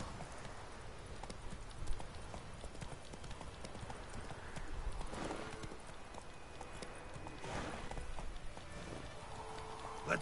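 Hooves of Roach, a horse in The Witcher 3 video game, clip-clop in a quick, steady galloping rhythm at moderate volume, with occasional soft thuds and faint background sounds.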